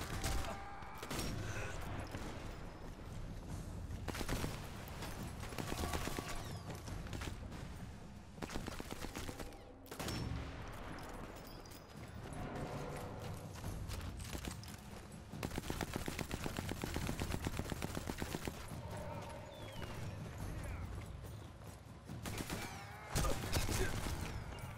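Gunfire in the video game Sniper Elite 4 during a campaign mission at the Regilino viaduct, with dense repeated shots and blasts throughout amid other loud game sounds.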